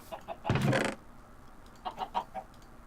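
Bronze chickens in Minecraft cluck nearby: a loud burst of squawking followed by a few softer, quick clucks.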